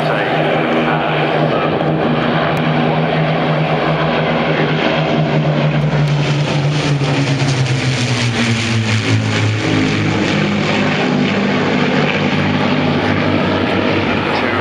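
A Lancaster bomber with a Spitfire and a Hurricane flies over at Goodwood Revival 2012, a loud continuous propeller-engine drone whose pitch sweeps down as the aircraft pass, heavy throughout with a voice faintly beneath.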